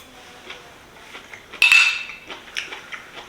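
Metal cutlery clinks and scrapes against a plate while cabbage is being tasted, with one sharp, bright strike in the middle followed by a few lighter taps, close up and with no talking.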